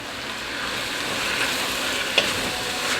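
Two pounds of 80/20 ground beef frying in a pan over medium heat, a dense even sizzle with a few soft scrapes and one sharp clack of the utensil against the pan.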